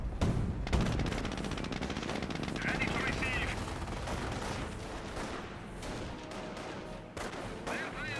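Rapid machine-gun bursts and rifle fire strike an infantry squad during a Company of Heroes match, crackling continuously in layered volleys while a commentator talks over the battle.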